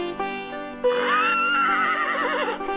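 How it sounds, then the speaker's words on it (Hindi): A horse whinnies once, loud and close, its high shaky neigh rising and trembling after a short snort, with nothing else around it. "यह किसकी आवाज थी? घोड़े की।"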